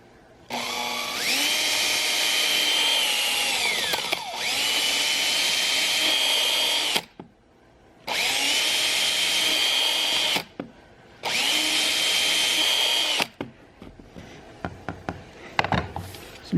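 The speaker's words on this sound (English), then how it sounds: "I am going to drill those bolt holes out" Power drill boring bolt holes through a colored paper fingerboard, running in three long sustained whining bursts with short pauses between, loud and close, followed by scattered knocks and handling clatter.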